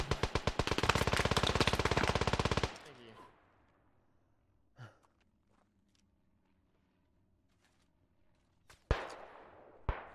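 Machine gun fire in the World War I shooter Beyond the Wire, a rapid, loud burst of shots for the first couple of seconds, then quiet with scattered distant sounds and a few sharp single shots near the end.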